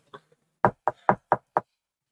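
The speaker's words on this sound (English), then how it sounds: "I knock on Tiffany's door." Five evenly spaced, crisp knocks on a door, close and clear, preceded by a faint small tap, with no voices over them.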